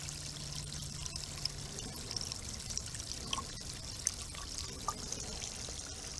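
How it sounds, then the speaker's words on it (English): Liquid reagent pours into a pool water test vial, a soft, continuous close trickle with faint drips, no voices. "And I'm going to add the reagent to the 14 milliliter mark."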